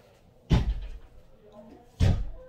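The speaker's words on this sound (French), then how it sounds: "Fermez la porte, s'il vous plaît." A door being shut inside a family home, two solid thuds about a second and a half apart, each loud and close against a quiet room.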